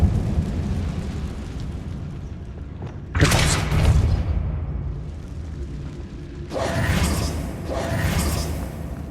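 Two heavy explosive blasts from the Confringo spell in Hogwarts Legacy, each a sudden loud boom with a rushing tail, the second following a few seconds after the first.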